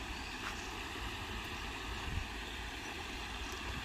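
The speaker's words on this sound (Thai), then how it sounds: "ฟังเสียงน้ำตกนะครับกลางคืน" At night, a waterfall at a streamside campground in Saraburi, Thailand, rushes in a steady, low, continuous wash of water noise, heard from a short distance with no voices.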